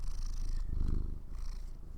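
A cat purring close up, a steady low rumbling throb that swells slightly midway and carries on alone without any talking.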